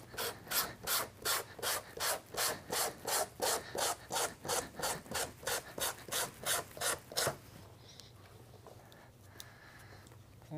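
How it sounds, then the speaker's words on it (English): A scratcher scraping over the smooth leather of a saddle seat in about twenty quick, even rasping strokes, close and clear, then stopping, leaving a quiet room tone. "we're going to take our scratcher and we're going to scratch up the smooth surfaces of the leather"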